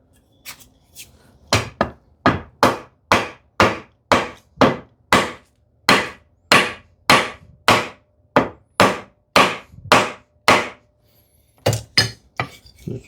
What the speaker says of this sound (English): So I just rest this my Mortise guide on this one like this way, and I will tap on that guide.